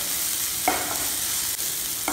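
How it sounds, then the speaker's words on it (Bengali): Sliced onion and capsicum fry in a pan with a constant bright sizzle, broken by a couple of quick spatula scrapes, close and fairly loud. "1 মিনিট মতো ফ্রাই করে নেবো যাতে পেঁয়াজ আর ক্যাপসিকাম একটু নরম হয়ে যায়"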